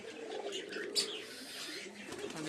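Pigeons in their loft during rain give soft cooing and chirping calls, fairly faint and close, with a brief flutter of wings and light background noise.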